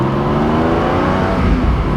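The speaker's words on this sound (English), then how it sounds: "Oh, listen to that beautiful 4-liter engine." Porsche 718 GTS with a 4-liter flat-six engine revving hard on a winding mountain road, a loud, continuous, close-up growl that builds steadily and has no talking over it.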